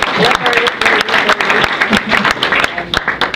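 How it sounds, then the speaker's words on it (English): Audience applause at a gathering on Texel, steady dense clapping heard up close and fairly loud, with voices mixed in throughout. "They have a shared applause."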